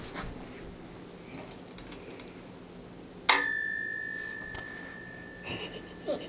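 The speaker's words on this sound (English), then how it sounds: "Did somebody ring the doorbell?" One bright electronic doorbell ding rings out and slowly fades away in an otherwise quiet room.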